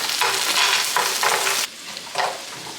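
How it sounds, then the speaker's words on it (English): Prawns frying in a hot pan, with loud bursts of sizzling broken by stirring, close and alone, easing to a quieter crackle partway through. "All I'm doing for the beginning portion of this recipe is literally frying these off."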